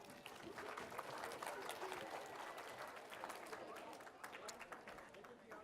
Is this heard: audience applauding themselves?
yes